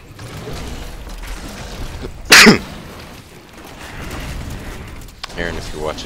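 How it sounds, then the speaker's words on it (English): A single sharp, explosive cough bursts out once, loud and close, amid low background noise and faint murmuring. "that was not a sneeze, that was a cough."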